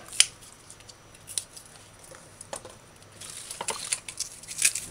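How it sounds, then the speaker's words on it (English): Scissors snip the tips off fresh plant sprigs during recipe prep for a conch and butter bean curry stew, a few sharp close clicks scattered over a quiet room, with a busier cluster of cuts toward the end. "Strip the dead leaves off and cut the tips."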